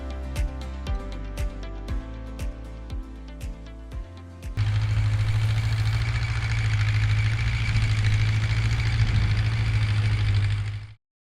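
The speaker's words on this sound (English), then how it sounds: "start motor." A DCEC Cummins 6B5.9 industrial diesel engine settles into a loud, steady idle with a deep constant drone, following a stretch of plucked music at the start.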